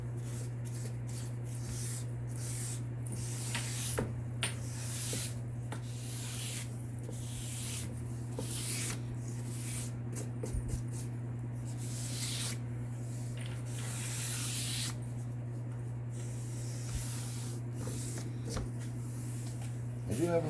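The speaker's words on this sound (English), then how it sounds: "Burnish the edge." Leather belt edge being burnished by hand, a steady dry rubbing and scuffing that repeats in quick strokes throughout, close and moderately loud over a constant low electrical hum.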